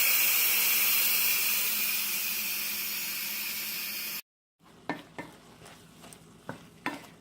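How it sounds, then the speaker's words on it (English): Steady loud hiss of steam venting from an Instant Pot pressure cooker while black beans and green bell pepper cook, cutting off abruptly, followed by quieter clinks and knocks of the lid and pot. "let all the steam come out until I'm able to open up the lid on my Instant Pot"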